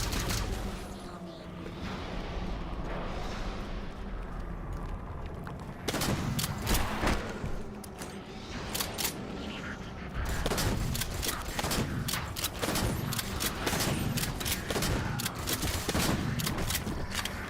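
Ongoing shooting in the game Halo 4, with repeated close gunshots and automatic bursts that grow denser partway through, set over a steady bed of game ambience and distant booms.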